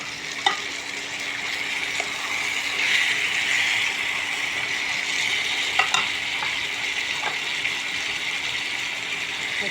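Tomato is stirred and fried in a pan with meat, giving a steady sizzle and occasional sharp scrapes of a spatula against the pan, close and continuous with no talking.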